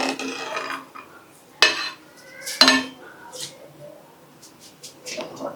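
A spoon stirs barnyard millet pongal with salt in a metal pot, giving two distinct close clinks against the rim among softer scraping. Quiet voices murmur in the background.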